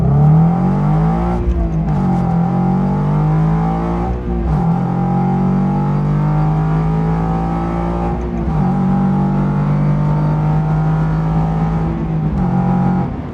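A 2023 Toyota GR86, non-turbo, accelerating hard with the engine revving loud and close, climbing through gears with brief dips at each shift, steady and continuous throughout.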